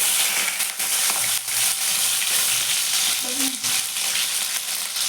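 Potatoes frying in a pan for potato palya give a steady, bright sizzle throughout, with a few faint clinks and stirring scrapes partway through.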